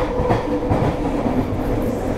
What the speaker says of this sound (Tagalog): share ko lang itong bagon na to ng tren